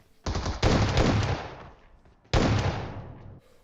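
M16A4 rifle fire in the mobile battle-royale game PUBG Mobile: two loud, close sustained bursts of rapid shots with a short gap between them.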